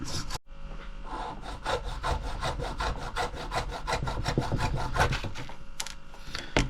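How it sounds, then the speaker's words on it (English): A model GWR water tower piece being sanded flat, a steady rapid back-and-forth rasping stroke repeated many times at close range, with no talking. "cut sections around it and then sand it down flat"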